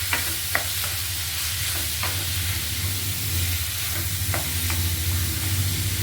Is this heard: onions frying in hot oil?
yes